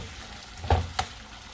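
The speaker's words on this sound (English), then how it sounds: "I'll fry it up a little bit." Tomato frying in a pan for a Guyanese curry, giving a soft sizzle with two brief louder crackles as it is stirred.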